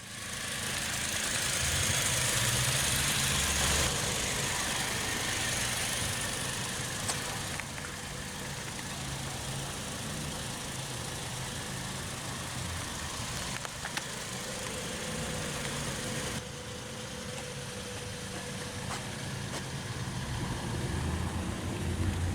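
A 2019 Toyota Tacoma SR Access Cab 4WD with its 2.7-liter four-cylinder engine idles steadily, a low continuous rumble with faint mechanical ticking, heard alone and fairly close.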